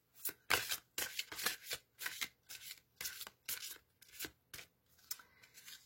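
Tarot cards are shuffled and drawn by hand, giving a quiet, close series of papery riffles and flicks in an even rhythm of about two bursts a second, with no voices.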